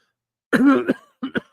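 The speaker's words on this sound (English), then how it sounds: "I'm coughing in the mic here" A person coughs close to the microphone, one harsh throaty cough followed by two shorter ones.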